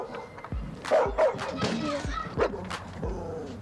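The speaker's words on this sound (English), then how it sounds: "You know why he got that name if you hear him bark" A dog named Ferocious barks several times in short, sharp yips and woofs, close by, with irregular gaps between barks, on a morning walk to school.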